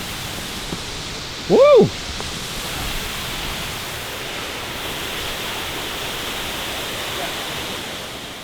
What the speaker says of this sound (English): We had arrived at Seneca Creek Falls, which had partially frozen over in the cold weather.